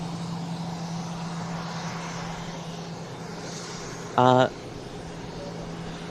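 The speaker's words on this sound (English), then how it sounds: "Plane continuing to roll in here." A plane rolls in on the ground at Kennedy Space Center, a steady engine drone with a low hum throughout, briefly overlapped by a short spoken word.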